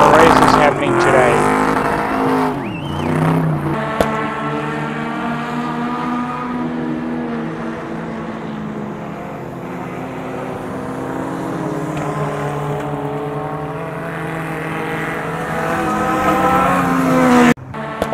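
Speedway race cars race around a dirt track in Katherine, Australia. Their engines drone loudly and continuously, with the pitch rising and falling as they accelerate and pass. A crowd murmurs faintly underneath.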